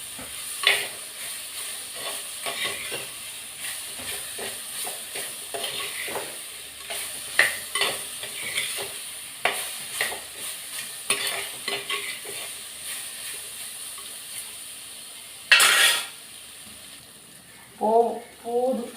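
Bitter gourd sautés in a pan under steady sizzling, with frequent close scrapes and knocks of a spoon stirring it; near the end come a louder clatter and a short spoken phrase.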